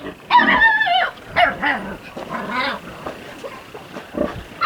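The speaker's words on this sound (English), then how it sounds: "What are you barking at, knothead?" A dog barks and yips close by in a few uneven bursts, with whimpering, snuffling sounds in between.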